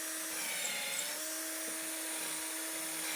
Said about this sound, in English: So I'll just drill a couple of holes here.